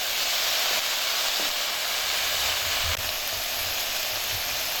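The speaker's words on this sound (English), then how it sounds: "the tempeh is getting more toastier, and it has a little bit of soy sauce in there" Homemade tempeh toasting in a pan with soy sauce and sesame oil gives a steady, even sizzle and hiss that runs without a break, with faint low clatter underneath.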